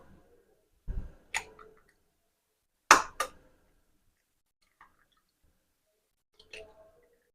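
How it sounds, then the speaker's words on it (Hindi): Three eggs cracked one after another into a mug in a home kitchen: a few sharp, close taps and cracks scattered through near silence, followed by a soft wet drop and a faint final tap. "3 अंडे इस मग्गे में तोड़ लूंगी।"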